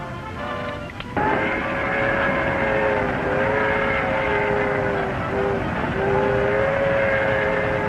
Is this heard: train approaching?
yes